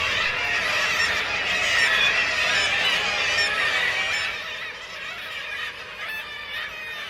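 Seabirds that nest on sea cliffs and roofs in a Norwegian coastal town call continuously in a loud, dense chorus of overlapping honking cries, with no talking.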